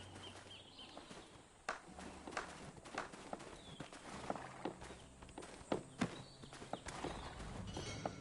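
Horse hooves clip-clop in the Black Desert video game: a soft, uneven run of hoofbeats and steps, faint and fairly close, with light ambient game sound beneath.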